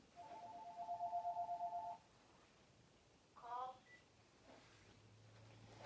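A telephone rings in a room with a steady electronic tone lasting about two seconds, followed by a brief warbling chirp, all over a faint background murmur.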